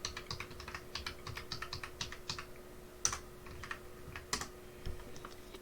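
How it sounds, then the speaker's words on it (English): Rapid clicking of keys on a computer keyboard as an IP address is entered, quiet and close, with irregular bursts of keystrokes and a few harder taps. "So now we're going to type in our IP address from our ESXi machine."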